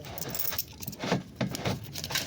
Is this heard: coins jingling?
yes